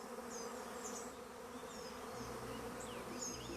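A swarm of honeybees buzzes steadily throughout, a dense continuous drone with individual bees whining past, no voices.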